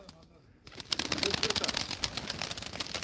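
Pigeons at a live Turkish auction of game pigeons, with brief wing flapping and scuffling after a quiet start, followed by dense busy clatter and rustling close by.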